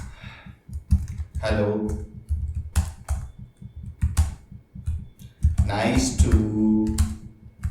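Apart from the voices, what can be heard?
typing on a computer keyboard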